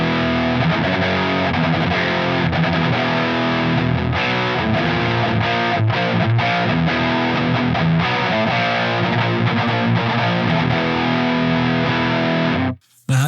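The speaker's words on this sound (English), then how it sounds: "this is what it sounds like without the delay on." NUX Trident multi-effects pedal on a rectifier amp model, delay off: a continuous, loud high-gain electric guitar riff with busy chords and muted chugs, played alone for about thirteen seconds, then cut short.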